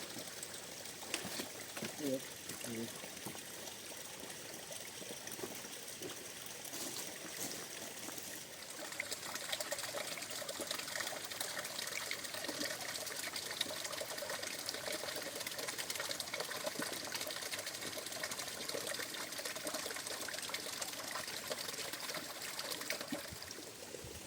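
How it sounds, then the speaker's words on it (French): Water trickles and splashes at a small waterfall beside a hiking trail in Ardèche, a continuous soft babbling under intermittent nearby voices. "Là, on est arrêté à côté d'une petite cascade."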